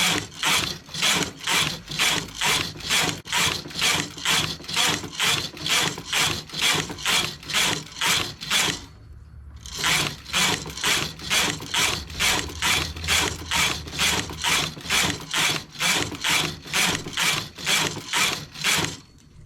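A domestic knitting machine knits plain stitch rows with a steady rhythmic ratcheting clatter, carriage passes repeating about twice a second, loud and close, with one brief pause midway before the rows resume.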